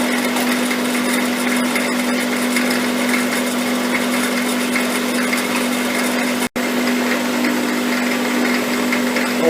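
A metal lathe in a workshop rough-machines a steel shaft, giving a steady, continuous mechanical drone with a humming tone and a brief dropout partway through. No one speaks.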